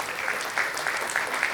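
Audience applause at the MISA 2025 award ceremony, a steady wash of clapping from a crowd welcoming guests to the stage, moderately loud and continuous, with faint voices underneath.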